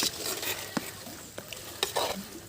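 Country chicken gravy is stirred in a clay pot, giving soft scraping and stirring strokes with a few sharper knocks of the utensil against the pot, fairly quiet, with no talk.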